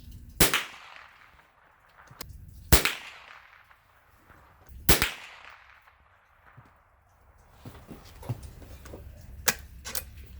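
Sharp rifle shots from a Ruger American rimfire rifle, four loud cracks spaced a couple of seconds apart, followed by quieter handling clicks and a couple of softer pops, with no talking.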